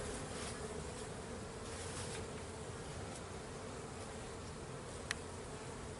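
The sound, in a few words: honey bees buzzing on a hive frame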